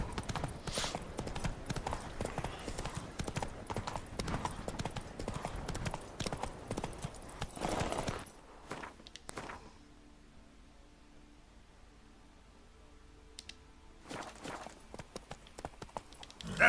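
Rhythmic hoof clip-clop of the horse Roach trotting in The Witcher 3, steady and fairly loud for about eight seconds, then breaking off into a quiet stretch before faint movement sounds return near the end.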